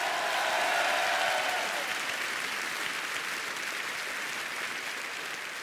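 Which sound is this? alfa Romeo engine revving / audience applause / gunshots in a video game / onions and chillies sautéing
audience applause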